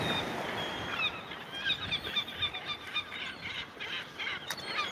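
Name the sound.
birds calling loudly overhead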